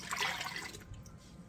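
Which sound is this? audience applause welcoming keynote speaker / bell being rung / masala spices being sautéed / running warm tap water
running warm tap water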